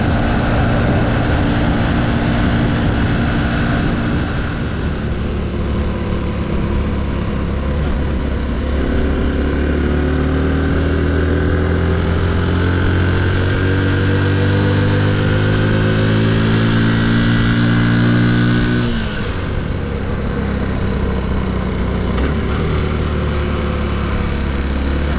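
The engine of a Piper Cub light aircraft drones steadily and loudly in flight, a continuous close buzzing hum whose pitch shifts slightly over about twenty-five seconds, with no talk.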